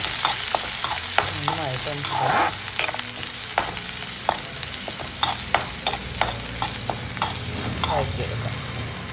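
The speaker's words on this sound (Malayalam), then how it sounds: "ഉള്ളി അത്യാവശ്യം വഴന്നു വന്നിട്ടുണ്ട്." Chopped onion sautés in a pan for a green plantain thoran, with a steady loud sizzle and frequent stirring scrapes and taps, close up; a voice briefly speaks.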